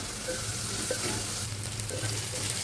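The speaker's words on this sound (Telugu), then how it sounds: "ఎర్రగా ఫ్రై అవుతున్నప్పుడు అల్లం, పచ్చిమిర్చి, కరివేపాకు, ఆనియన్ యాడ్ చేసుకోవాలి. ఇవన్నీ ఎర్రగా ఫ్రై అయ్యేలాగా వేయించుకోవాలి." Ginger, green chili, curry leaves and onion frying in a pan for a broccoli dish, a steady close sizzle with occasional stirring scrapes, no voices.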